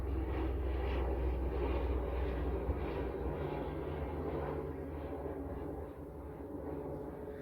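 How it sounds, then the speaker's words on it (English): Helicopter passing over a house, a steady low engine and rotor drone heard at a moderate distance that holds level and then eases slightly toward the end, with no talk over it. "Helicopter went over my house."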